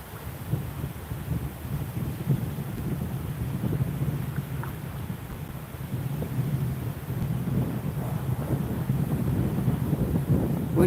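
Strong wind buffeting the microphone at a riverside fishing spot, a loud continuous rumbling roar that gusts and swells throughout without letting up.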